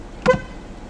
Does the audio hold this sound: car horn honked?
yes